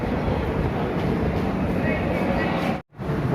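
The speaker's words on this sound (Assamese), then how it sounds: "ভুৱনেশ্বৰ ষ্টেচনৰ পৰা ট্ৰেইন এৰিছে" A train pulling slowly out of Bhubaneswar station gives a continuous low rumble and rattle of carriages, close and steady, briefly dropping out near the end before resuming.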